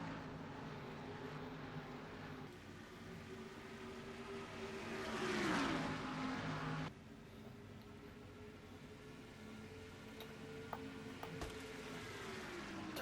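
Ford race cars circle Homestead's wide, steeply banked oval in a racing video game, a steady engine drone with a louder surge as cars pass mid-way, then a continuous hum.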